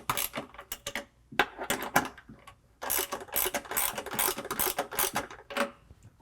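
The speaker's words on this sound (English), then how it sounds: "now we can go ahead and tighten the nuts down to the bracket" Metal nuts being tightened onto a roof tent mounting bracket, giving a close series of quick ratcheting clicks and clanks in bursts with short pauses between.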